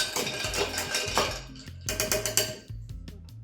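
A spoon stirs an orange juice Harvey Wallbanger cocktail in a glass, tapping and clinking against the sides in quick, uneven bursts of sharp ticks, close and clear with no voices.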